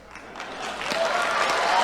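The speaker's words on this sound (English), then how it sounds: "Obligatory audience applause." A crowd's applause swells steadily, dense clapping growing louder over about two seconds, fairly close and unbroken.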